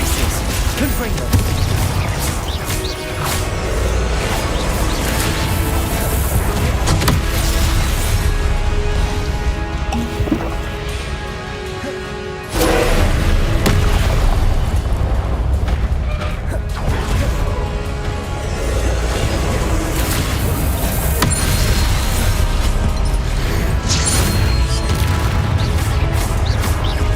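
Spell effects and explosions crackle and boom during Hogwarts Legacy combat, a loud, dense, continuous barrage of blasts and magical impacts with a brief dip midway before the clash resumes.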